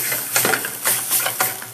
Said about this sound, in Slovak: Takto uvarené ňoky pridáme rovno na panvicu k omáčke.